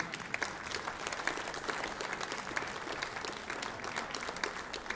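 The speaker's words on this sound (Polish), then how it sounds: "Gorące brawa do niego." Sustained applause from a concert audience welcoming the performers onto the stage at a Silesian schlager music show, a dense steady clatter of many hands at even loudness throughout.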